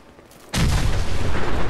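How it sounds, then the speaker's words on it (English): A nuka grenade goes off in Fallout 4 as one abrupt, very loud close blast, followed by a dense roaring wash of debris and rumble that fills the rest of the moment. "Wait, that was a nuka grenade."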